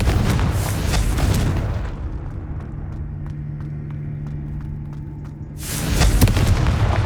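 Confringo fire spell blasts in the video game Hogwarts Legacy, a loud booming burst at the start and another near the end, with a quieter humming pause between them.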